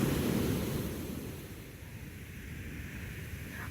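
Sea waves wash continuously onto a sandy shore, a broad steady surf roar that swells at the start and then eases to a softer, even hiss.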